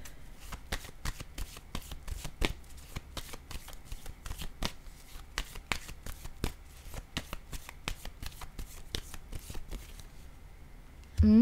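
A deck of tarot or oracle cards being shuffled for a card reading, with rapid, steady riffling and flicking close up, running continuously with a brief sound at the very end.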